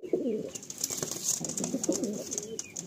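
Madrasi and Giribaj pigeons coo in a loft, throaty rolling calls repeating close by over a faint background of shuffling and light chirps.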